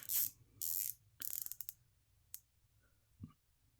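Rotating bezel on a Cadisen C8239 wristwatch gives a short run of light, quiet clicks, heard close and alone in a near-silent room.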